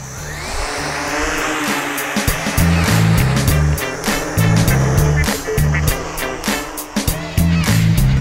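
A HobbyKing X930 octocopter flies close by, its motors giving a loud, steady buzzing whine that swells and shifts in pitch as it spins through fast pirouettes.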